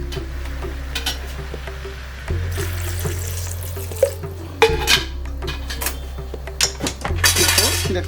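Water splashes and pours into a cooking pot of vegetables for sambar rice, with clanks of metal pots and utensils and a low steady hum from the stove beneath.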